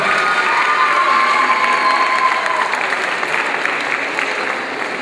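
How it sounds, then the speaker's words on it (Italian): A crowd at an evening celebration in Ragusa breaks into sustained applause mixed with cheering, dense and loud throughout, easing slightly toward the end. "Vai, ancora un applauso per loro"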